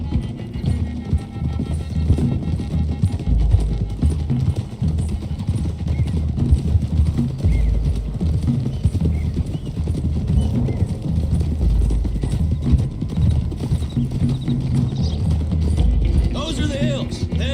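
Horses galloping along a trail in the video game Red Dead Redemption 2, hooves pounding in a continuous rapid clip-clop under characters' dialogue, with a brief whinny near the end.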